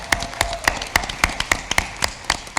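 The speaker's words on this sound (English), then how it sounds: "Let's give these presenters a big round of applause." Rhythmic hand claps at an even pace at a board meeting, close and crisp, about four per second, with no voices over them.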